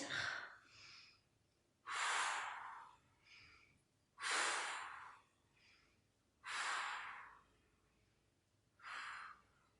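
Deep breathing during an abdominal strengthening workout: four strong, airy exhalations spaced about two seconds apart, each followed by quieter inhales, close and alone.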